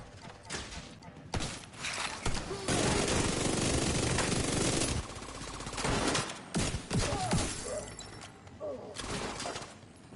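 Turret gunfire in The Division 2 video game rattles in long, loud bursts of rapid automatic fire, with short gaps and scattered single shots between volleys.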